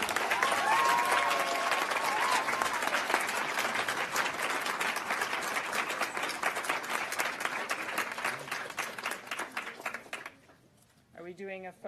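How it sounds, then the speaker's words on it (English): A crowd at a pharmacy commencement applauds the graduates with dense, sustained clapping that thins out and stops near the end, after which a voice starts talking. "Let's give a big round of applause to our graduates"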